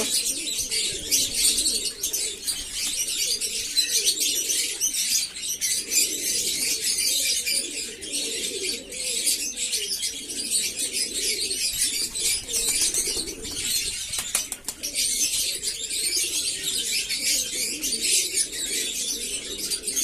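Pigeons coo in a steady, continuous murmur across the whole stretch, a close flock kept outdoors on a sunny day, with soft rustling and chirps mixed in and no talking.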